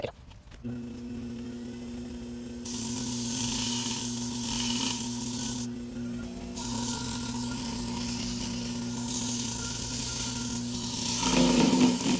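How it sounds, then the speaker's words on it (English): Sanding a hand-carved cedar wood bowl: a steady rasping scrape starts a few seconds in and runs almost without a break, briefly pausing once, over a constant low electrical hum, with no talking. "So let's start sanding."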